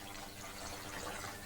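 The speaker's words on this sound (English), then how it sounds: "And just pours in as well." Chicken stock pouring into a cooking pan for a Christmas dish, a steady, continuous liquid wash at close range with no pauses.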